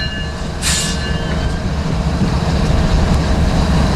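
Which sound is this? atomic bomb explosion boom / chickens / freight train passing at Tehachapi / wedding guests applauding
freight train passing at Tehachapi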